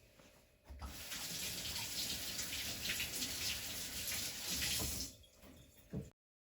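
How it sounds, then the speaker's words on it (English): A kitchen tap gushes steadily for about four seconds as hands are washed under it, then shuts off, with no talk. "now I'm going to wash my hands."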